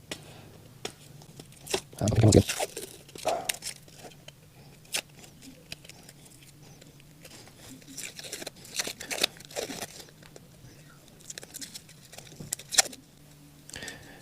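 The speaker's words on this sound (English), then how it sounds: "Let's unwrap this and see what happened." Wrapping is peeled and crinkled off a newly fitted parang handle set with epoxy, irregular rustling, crunching and clinking sounds close by with a louder burst early on, and someone talks over parts of it.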